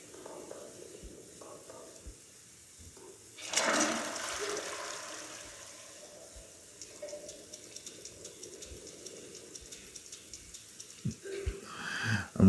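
Shower water in the creepy puzzle game Very Little Nightmares, a faint hiss that swells into a rushing spray for a few seconds, then settles to a low running trickle behind soft game noises.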